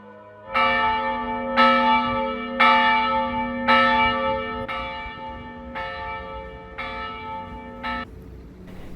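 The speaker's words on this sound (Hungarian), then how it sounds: "Mikor megszólal a harang, útnak indulok." A church bell rings out in eight clear, evenly spaced strokes about a second apart, each ringing tone lingering and overlapping the next, loud and alone with a faint background hum.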